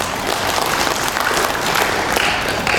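An audience at a culture heritage technical meeting in NTT claps for the Governor, a dense, steady round of applause filling the room at an even level with no talk over it.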